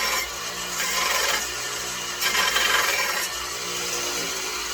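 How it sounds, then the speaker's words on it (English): A wooden hammer handle is sanded down by hand with a steady, scratchy rasping that keeps up throughout and swells a little in short strokes, close and with no talking. "So I'll sand this down."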